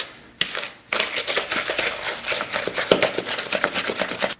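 A wooden spoon creams butter and sugar by hand in a bowl for a Halloween-colored pound cake, making a steady run of close scraping, rubbing strokes with brief gritty pauses and no talking.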